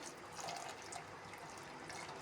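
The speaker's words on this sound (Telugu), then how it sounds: "రాగి బాటిల్ ఫ్రెండ్స్ చూడండి వాటర్ పోసినా కానీ బాగా ఇదవుతుంది" Water poured into a copper bottle makes a steady, faint rushing and gurgling flow, close but low in level and continuous throughout, with no voices.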